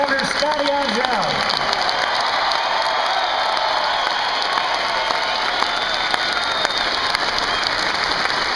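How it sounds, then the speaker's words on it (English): A rally crowd applauds and cheers, sustained dense clapping with shouts mixed in, steady and loud throughout. "Let's give another round of applause"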